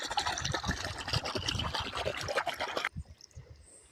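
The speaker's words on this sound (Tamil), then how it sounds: "தண்ணி அங்கே போகுது இப்போது" Irrigation water flows into a farm field in a village, splashing and gurgling steadily up close before the rush drops away abruptly to a quieter trickle.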